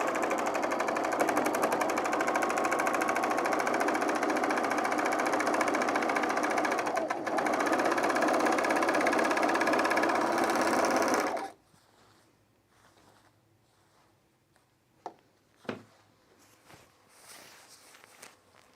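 A sewing machine stitching shirt fabric runs in a fast, steady mechanical rattle for about eleven seconds, loud and close, then stops abruptly, leaving faint handling clicks and taps.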